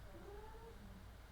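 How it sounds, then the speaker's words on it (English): A cat lets out a faint, drawn-out meow with a wavering pitch, heard quietly in the background of a home interview setting with no talk over it. "My cat gonna create some noise."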